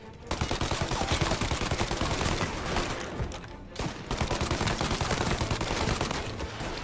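Sustained rapid gunfire rattles through a shootout in Mafia 1, a dense automatic barrage that breaks off briefly and then resumes just as loud.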